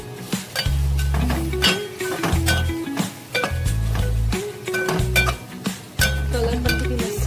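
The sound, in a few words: stirring spices into fried onions in a pot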